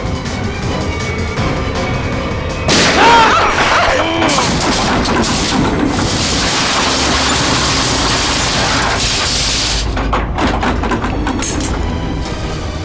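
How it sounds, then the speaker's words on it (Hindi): Gunfire inside a fast-descending lift during a crime drama scene: dense, loud booming bursts and crackling blasts over a constant noisy rumble, with a sharp burst early on and more bursts near the end. "लिफ्ट के अंदर गोली चली?"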